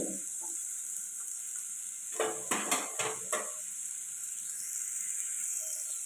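Tomatoes soften in a pan with a quiet steady hiss and a short run of clattering stirs and scrapes of a utensil against the pot partway through.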